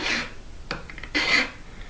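A hand file rasps along the edge of a guitar fretboard on a 1978 Martin HD28 neck, cutting off the sharp corner at a 30-degree bevel; a few short, close scraping strokes with brief pauses between them.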